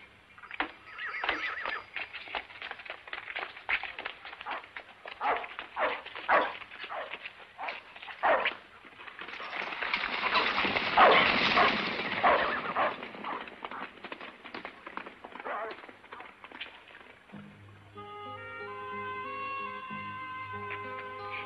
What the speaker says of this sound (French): Idiot de chien.